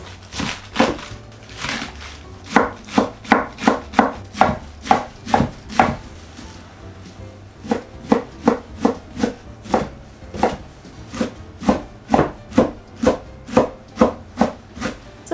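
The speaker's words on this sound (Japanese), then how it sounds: "キャベツはみじん切りにしていきます。" Cabbage is finely minced with a knife on a cutting board in a nursery-school kitchen, close, crisp chopping strokes in rapid rhythmic bursts with a short pause midway.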